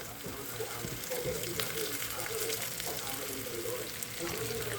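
Asuhos fish frying in hot oil for sinuam, a steady broadband sizzle and crackle running throughout at moderate level, with a faint voice underneath.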